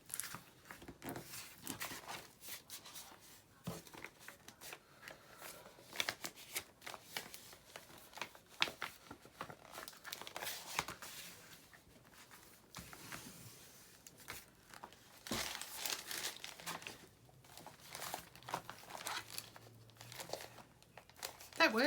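Paper being folded and creased by hand for a junk journal made from desk scraps, with repeated close crinkling and rustling in short bursts, a voice talking intermittently throughout.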